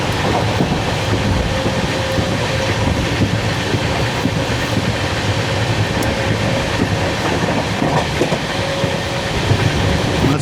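A train rolls steadily on its approach to Surendranagar Junction, with continuous rumbling wheels and a faint clickety-clack over the rails, close and fairly loud from start to finish with no talk.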